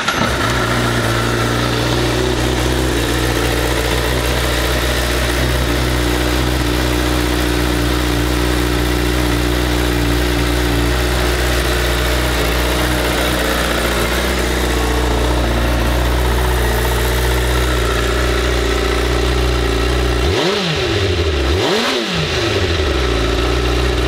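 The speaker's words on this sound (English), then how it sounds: "let's go ahead and fire it up and listen how it sounds" A 2017 Honda CBR1000RR sportbike engine runs at a steady, loud idle for about twenty seconds. Near the end the throttle is blipped twice in quick succession, with no talking.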